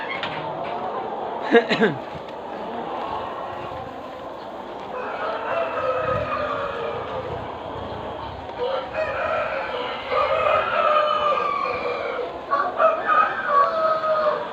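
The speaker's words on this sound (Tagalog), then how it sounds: "Mga manok." Chickens cluck steadily close by while a rooster crows loudly several times, with farmyard noise throughout.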